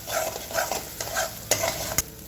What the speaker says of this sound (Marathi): अजून एकदा चांगलं हे सर्व साहित्य परतून घ्यायचं आहे